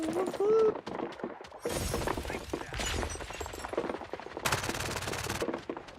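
Gunfire in the online shooter FragPunk, bursts of rapid automatic fire and single shots mixed with shattering impacts, loud and close, with people talking excitedly over the action.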